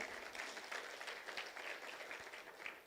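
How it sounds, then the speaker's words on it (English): Audience applause for a woman being introduced at a business idea marathon session on gender-based violence; steady, dense clapping from a crowd that holds at a fairly even level throughout with no talking. "A proper round of applause of Alberta."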